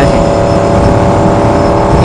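A 2016 Yamaha R1 motorcycle engine drones steadily while riding, a loud sustained mechanical hum mixed with wind rush and no clear pauses.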